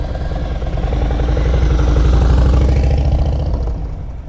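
A motorcycle engine idles and burbles steadily while the rider creeps along at very slow speed during riding practice, loud and close throughout, with a slight swell in the middle before easing off near the end.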